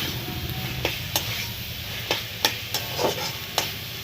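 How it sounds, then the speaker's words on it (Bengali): Cumin powder, turmeric and other spices fried and stirred in a pan for a chanar chakka, a low steady sizzle with repeated light scrapes and taps of a spatula in uneven rhythm. "দিয়ে দেব জিরে গুঁড়োটা, দিয়ে একটু নেড়ে আমি একটু কষিয়ে নেব"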